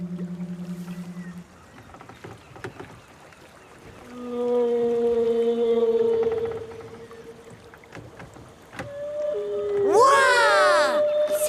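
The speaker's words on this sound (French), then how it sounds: "C'est une baleine qui chante." Whale singing captured underwater with a microphone dipped in the sea, long tonal moans and rising cries with a watery background, and a voice speaking briefly at the start.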